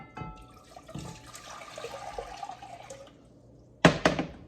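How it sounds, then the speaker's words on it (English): Water is poured from a tap into a pot to start a homemade elderberry syrup, a faint running trickle that ends with a short, sharp burst of splashing near the end. "So I'm going to add 4 cups of water."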